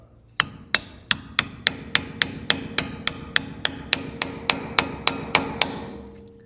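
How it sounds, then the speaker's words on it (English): Sharp metallic taps ring out about every third of a second, some eighteen even strikes in a row, as a socket hammers a dust cap back onto a 1990 GMC Sierra truck wheel, loud and close with nothing else heard. "go ahead and put that new dust cap or your old one back with a socket or something"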